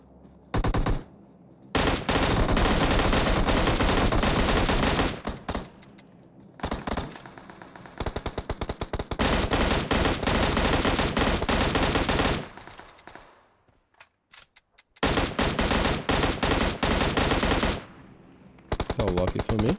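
Automatic gunfire in PUBG Mobile war mode rattles in long, loud bursts, close, with brief pauses between volleys.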